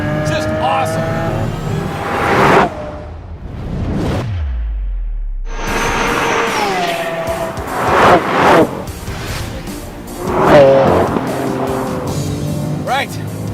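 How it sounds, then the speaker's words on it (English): A Lamborghini Aventador SV LP750-4 powers around a race track, its engine roaring loud and close through rising and falling revs, dropping out briefly before surging back hard, with someone talking over it. "here I am flying over turn 6, Big Willow, and the Lamborghini Super Veloce"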